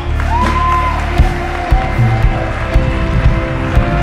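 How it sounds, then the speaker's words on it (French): Congregation in a French-speaking church service cheering and applauding loudly, a long whoop rising over dense clapping and crowd noise, with rhythmic thumps and shouts continuing throughout. "Est-ce qu'on peut donner un tonnerre d'applaudissements à Dieu maintenant?"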